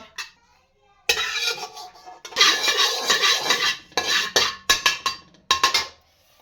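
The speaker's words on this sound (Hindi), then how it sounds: "बादाम और पिस्ते को रोस्ट करेंगे।" Almonds and pistachios roasting in desi ghee in a pan, stirred with a spoon: loud, close metallic scrapes and clinks of the spoon against the pan in irregular bursts, with brief pauses between strokes.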